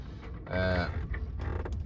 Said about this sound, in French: ça, c'est la coque qui frotte sur le bord du quai